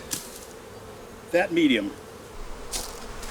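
Honey bees buzz loudly around a frame shaken out over the hive in a neglected bee yard, a close swelling drone with brief sharp bursts near one moment, and a few quiet words spoken over it.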